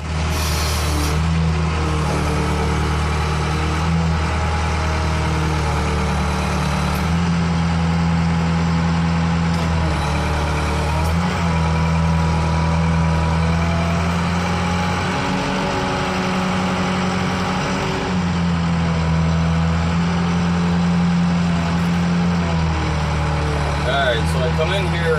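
An International 4400 truck engine idles with a steady low diesel rumble while the truck maneuvers gently, loud and continuous throughout with a brief dip in the middle and a hiss of air near the start.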